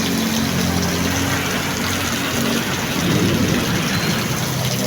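Heavy rain pours down in a dense, constant rushing roar that stays loud and even throughout, with low rumbling underneath and no voices.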